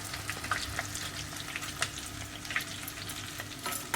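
Chicken leg pieces frying in oil over a low flame, a constant soft crackling sizzle with a few small spatters, steady and unbroken, no voices.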